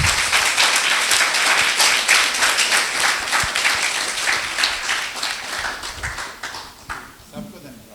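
Loud, dense applause from a seated audience at a study camp evaluation session, sustained steadily for several seconds before tapering off near the end.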